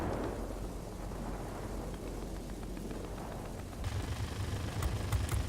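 Anti-aircraft fire bursts around a Ki-43-Ic fighter in World of Warplanes: faint, muffled thuds and popping under a constant engine-like roar, growing slightly denser near the end.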